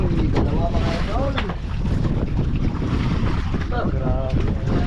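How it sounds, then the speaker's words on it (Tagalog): A strong north wind buffets a boat at sea, roaring steadily with waves and engine rumble beneath, while people talk over it. "medyo naglakas yung norte na hangin"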